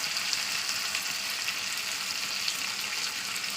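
Meat sizzles steadily in hot oil in a pan, a dense even crackle that stays close and loud without pause.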